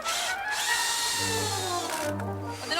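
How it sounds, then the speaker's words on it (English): A power drill drives screws into wood during an outdoor garden makeover, with a close, loud whirring motor burst, a brief pause, then a second rising whine as the screw bites. "Put the screws in."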